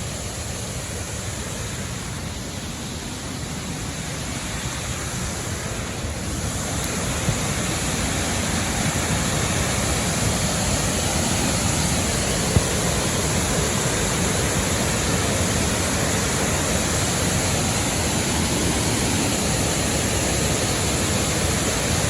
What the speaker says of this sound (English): Did you see the waterfall?